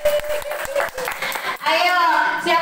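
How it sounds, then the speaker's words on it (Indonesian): An audience of parents at a kindergarten parenting session claps in a brief burst of applause that swells near the end, mixed with voices speaking over it. "Tepuk tangan dong, ayo."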